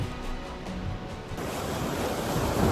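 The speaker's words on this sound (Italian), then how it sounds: "Ora piove anche," Wind and rain lash a sea coast during a fishing trip, blending with the surf into a continuous broad roar that swells toward the end, with no voices.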